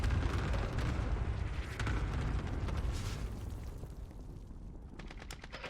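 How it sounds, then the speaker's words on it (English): Cluster strike explosions in Call of Duty Warzone sound as a loud rolling barrage of booms that gradually fades, with scattered sharp cracks near the end. "Yeah, I just cluster striked him"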